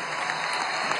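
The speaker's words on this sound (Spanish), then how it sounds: "Vamos a darle un aplauso a esta orquesta de la Milicia Nacional Bolivariana." A brief burst of applause in a large hall for an orchestra of the Bolivarian National Militia, a dense, even wash of clapping heard alone for about a second.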